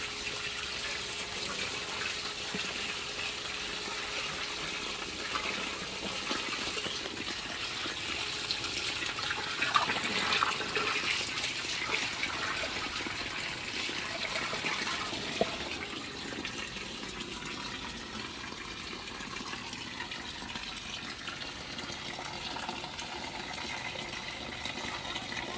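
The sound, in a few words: garden hose flushing water through sand filter of tilapia pond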